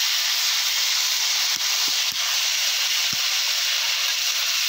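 A ground spice paste hits a hot pan and sizzles in a steady, loud hiss, with a few faint knocks from the utensil underneath.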